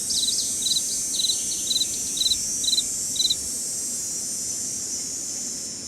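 Chirping in a Nancy Drew video game: seven evenly spaced bursts of quick, high chirps ring out over a steady insect-like hiss and low ambient rumble, then stop, leaving the background drone alone.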